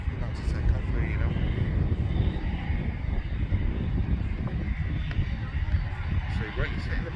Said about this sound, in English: You've got an aircraft about to take off here, you know.